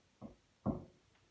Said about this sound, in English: heard a quiet little knock at the front door